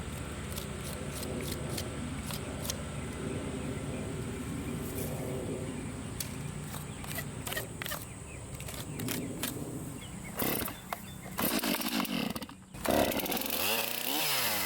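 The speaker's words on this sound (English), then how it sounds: "He starts up his chainsaw and begins to cut." A chainsaw buzzes and revs while cutting through a pecan log, with repeated bursts and sputters, fairly distant at first, then louder, choppier sounds near the end.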